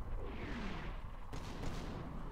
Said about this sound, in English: Enemy artillery coming in.